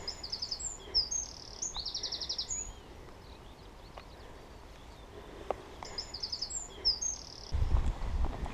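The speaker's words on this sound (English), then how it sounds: "I stopped often to listen to the birds welcoming the day." Birdsong rings out in repeated bright phrases, fairly near, in morning woodland with beech trees and bluebells along the Ridgeway in Britain, with quiet gaps between songs and soft rustling in the background.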